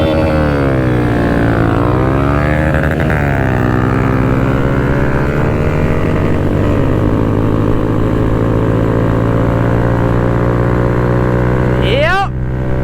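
A Kawasaki Z125 Pro motorcycle fitted with a 143cc big bore kit pulls hard in first gear, its loud buzzing engine note sweeping up and down in pitch continuously, close and dominant.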